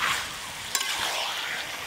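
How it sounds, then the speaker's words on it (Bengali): Chicken pieces stirred and frying in a kadai, cooked village-style: a steady, close hiss of sizzling with scraping from stirring and one sharp clink partway through, no talking. "এই অবস্থায় কিন্তু কড়াতে খুব ভালো করে চিকেনগুলো নাড়তে হবে যতক্ষণ না চিকেন থেকে জল বের হয়"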